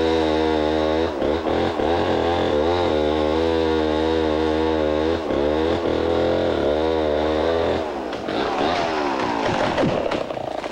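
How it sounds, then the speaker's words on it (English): Chainsaw running steadily in the Amazon rainforest, a loud close droning engine with brief dips and surges as it works, turning rougher and harsher near the end. "The chainsaw. It gives a single man the power to fell the mightiest jungle"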